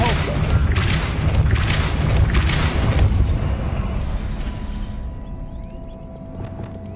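Depulso spell cast in Hogwarts Legacy, a loud forceful whooshing burst with rumbling impact that fades out over several seconds.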